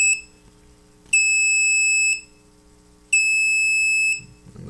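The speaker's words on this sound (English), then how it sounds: "So you got the buzzer go on 10 times" An Arduino Uno alarm buzzer sounds in long, steady, high-pitched beeps, each lasting about a second with equal pauses between, loud and alone.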